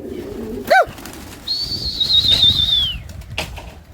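Pigeons flap their wings in a brief, close burst of beating, followed by a long thin whistle-like tone over low outdoor rumble, with a second faint flutter near the end.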